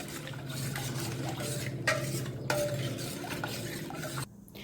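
A spoon stirs khata mung beans with turmeric and salt in a metal pot, giving soft continuous scraping with a couple of sharper clinks against the pan, close up and without talk.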